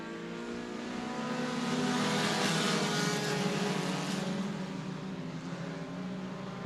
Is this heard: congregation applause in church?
no